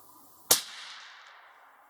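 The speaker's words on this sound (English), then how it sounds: "Firing." A single sharp crack from a Ruger American Predator .308 rifle loaded with Lake City ammunition, followed by a long echoing decay across an open range, fairly loud against quiet surroundings.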